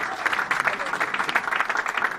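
Loud, steady applause mixed with cheering from a church congregation at an evening women's worship gathering in Paris, continuous and dense throughout with no gaps.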